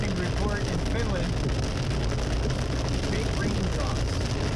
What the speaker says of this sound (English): Very large raindrops.